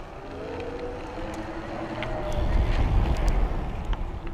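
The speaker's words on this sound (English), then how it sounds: "There's the motor." An e-Joe One hardtail electric mountain bike's geared hub motor runs at pedal assist level 3, giving a steady close whir that swells slightly halfway through, mixed with wind and rolling noise.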